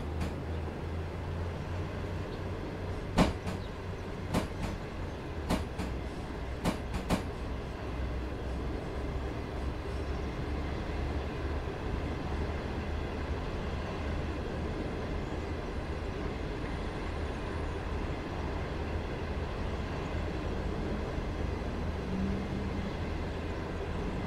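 A locomotive in the MaSzyna train simulator game runs with a steady low rumble and rail noise, with a few sharp clicks early on, at moderate level and no talking.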